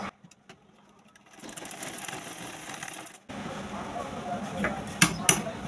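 A sewing machine stitches the shoulder seam of a small baby dress, starting after a quiet pause and running as a steady, close mechanical whir with a few sharp clicks near the end.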